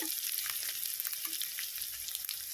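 Ground ginger and cumin paste fries in a pan for potato dum, a steady high hiss with faint stirring clicks throughout and no voices.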